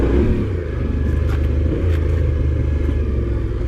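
A Yamaha Tenere 700 adventure motorcycle rides a slippery off-road trail, its engine giving a loud, close, steady low rumble with slight throttle swells and a few faint clatters.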